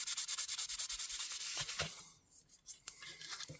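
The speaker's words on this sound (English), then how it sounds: "And you don't want to rub too fast because it might get too hot." Hand sanding of a Sabre fish knife gives quick, rhythmic back-and-forth rubbing strokes, close and fairly quiet, that slow and fade into a few scattered scrapes.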